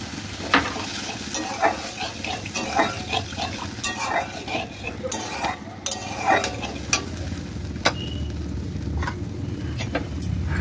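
Water goes into oily frying masala for a katla fish kalia, raising a broad steady sizzle under scattered spoon-stirring clinks and scrapes, close by.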